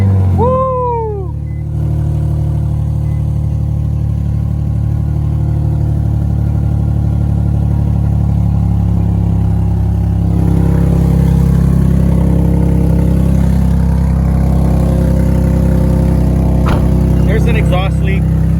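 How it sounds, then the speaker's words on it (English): An Infiniti G37 engine with an exhaust leak runs steadily close by with a rough, puffing exhaust note, loud and continuous, with a brief squeal at the start. "There's an exhaust leak."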